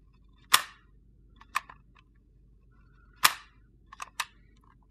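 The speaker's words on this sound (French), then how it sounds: "en percutant doucement, vous voyez, vous avez entendu le petit clic" Sharp mechanical clicks from the hammer of an MK23 replica pistol, fitted for noise reduction: one crisp click, a lighter one, then another loud click followed by a quick cluster of three, all close and isolated over a quiet background.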